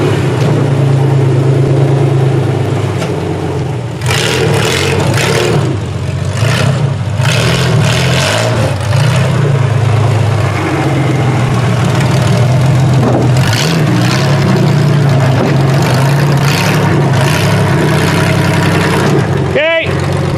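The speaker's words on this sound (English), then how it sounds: "All right, up onto the trailer, Steven." Car engine running and pulling up onto a trailer, a loud steady motor drone with slight revving across the whole stretch, while people talk over it.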